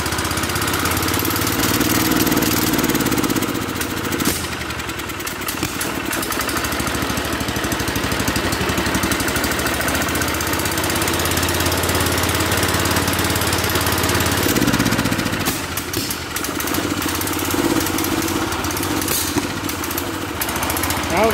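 A running engine at an engine-starting meet is given throttle, making a continuous, loud, close-up chugging roar that rises and dips twice over about twenty seconds, with no voices.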